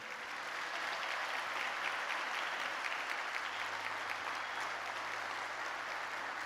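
Steady, dense applause from a church congregation fills a worship service, a continuous even patter heard faint and somewhat distant, with no voices on top.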